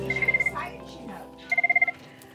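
A telephone rings twice in a school office, each burst a rapid trill of bright electronic pulses separated by a pause, heard close by with room noise and low voices in the background.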